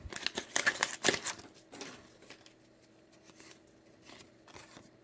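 1989 Upper Deck baseball cards are flipped through by hand, giving quick, crisp papery flicks clustered in a busy burst at the start, then thinning to sparse, soft riffles, all quiet and close.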